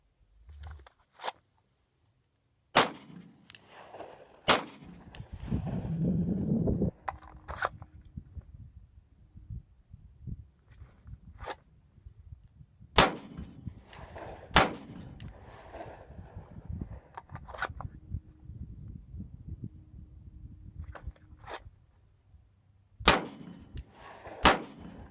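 Glock 19 Gen4 pistol shots during a dot torture drill at a range ring out as sharp, loud, isolated cracks, some spaced singly and others in quick pairs, with handling clatter and rustling in between.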